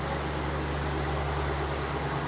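A 2018 Chevrolet Camaro, number 2 of 25, idles while warming up in a garage, giving a steady, even engine drone with a low hum and no voices.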